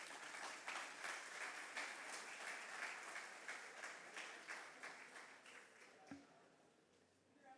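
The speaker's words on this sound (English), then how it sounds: "Spencer, let's give him some applause." Steady applause from an audience as a speaker is introduced at an indoor event, sustained for several seconds before tapering off, with a brief murmur near the end.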